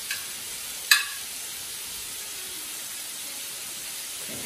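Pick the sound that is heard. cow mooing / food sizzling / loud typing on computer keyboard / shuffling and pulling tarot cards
food sizzling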